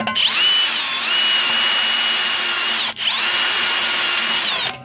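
A power drill with a step bit whines steadily at high pitch through sheet metal on a 2010 Dodge Challenger, two long continuous runs with a brief stop between, loud and close.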